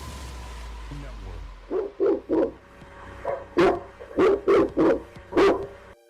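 A dog barks about eight times in quick, uneven bursts, fairly close and loud, following a low droning tone at the start.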